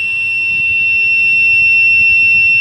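Electronic buzzer on a homemade health sensor device, sounding one loud, sustained high-pitched tone that holds steadily throughout, with faint fan-like rumble underneath.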